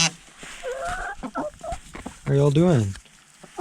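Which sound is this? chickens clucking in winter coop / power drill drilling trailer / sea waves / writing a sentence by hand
chickens clucking in winter coop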